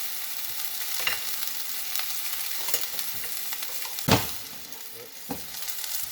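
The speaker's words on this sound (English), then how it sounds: "Let it sear like that." Salmon sears in a pan with garlic and shallots, giving a steady close sizzle broken by a few soft knocks and one sharper clatter partway through.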